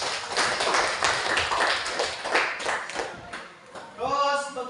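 Students clapping together in a school classroom during a teaching-practice lesson: a quick, uneven burst of handclaps that fades out, followed by a voice starting to speak.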